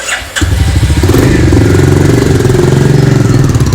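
A motorcycle engine starts up close by and settles into a loud, throbbing idle with a rapid, steady pulse.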